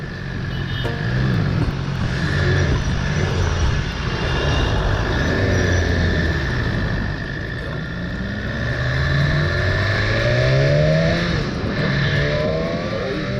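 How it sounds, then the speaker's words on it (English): A BMW S1000RR superbike accelerating hard on a test ride, engine note rising and falling through repeated rev sweeps, loud and close with steady road and wind noise. "today I'm taking the BMW S1000RR for a test ride"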